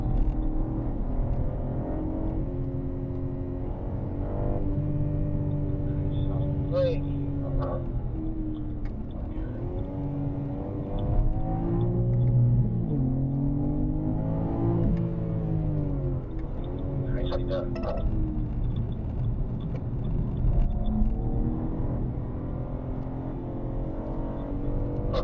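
A BMW M car driving on a race track, heard from inside with engine pitch rising and falling through acceleration and braking, steady in-cabin drone while a voice talks over it.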